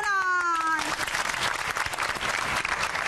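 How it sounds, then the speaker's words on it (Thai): Audience applause at a singing competition show, a dense wash of clapping from a crowd that begins after a brief sung note and continues loudly to the end. "ปรบมือหน่อย"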